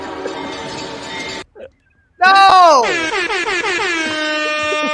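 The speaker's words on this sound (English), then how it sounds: "Hit the air horn." Loud blaring air horn blasts with descending pitch, following a brief shout; the horn repeats in rapid stuttering bursts.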